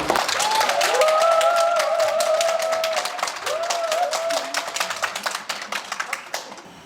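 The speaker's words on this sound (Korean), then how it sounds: "박수로 환영해 주시기 부탁드립니다." Audience applause welcomes a presenter at a graduate school international academic conference: sustained, dense clapping from a crowd, fading into scattered claps toward the end, with faint voices underneath.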